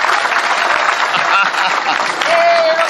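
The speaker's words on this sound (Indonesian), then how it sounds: "Tepuk tangan untuk Bung Rocky." Audience at a Maiyah gathering applauds Rocky Gerung, a loud, continuous burst of crowd clapping with some voices mixed in, lasting a few seconds.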